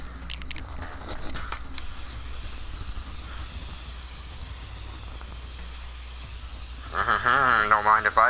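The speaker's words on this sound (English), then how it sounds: "Using the red spray paint already?" Red spray paint hisses from a can in inFAMOUS Second Son, a steady, continuous breathy spray. Near the end a rising, warbling sound joins in.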